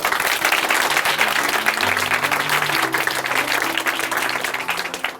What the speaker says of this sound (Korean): 우리 이은미 자매님의 인생 앞으로 함께 더 큰 박수로 응원해